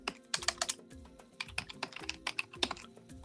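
Rapid typing on a computer keyboard while entering code, a quick run of crisp, close key clicks in uneven bursts.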